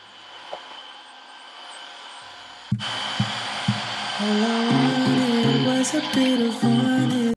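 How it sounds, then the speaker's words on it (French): A Tineco Floor One S5 Combo wet-dry vacuum cleaner switches on abruptly and runs loudly with a steady whine, its pitch wavering as it is pushed over an old, set-in stain on the floor. "je vais voir si l'aspirateur marche aussi sur les taches incrustées, les anciennes taches"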